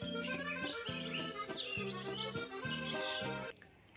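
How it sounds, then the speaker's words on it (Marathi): Birds chirp and trill overhead in a large tamarind tree in bright, scattered bursts, layered over a lower rhythmic droning sound, with no voices present. "इथं पक्षी पण खूप आहेत हे बघ आवाज ऐका गायचं"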